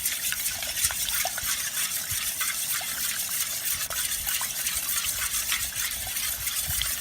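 Passion fruit honey juice stirred with about a liter of water, a continuous close sloshing and swirling of liquid, steady and even throughout with no voices.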